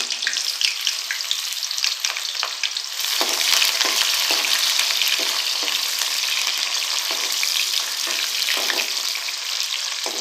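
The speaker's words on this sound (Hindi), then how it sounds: "और प्याज को हम लोग लाइट ब्राउन होने तक फ्राई करेंगे।" Two medium onions frying in half a cup of oil in a kadai, a loud continuous sizzle that swells after a few seconds, broken by scraping stirs, with no voices.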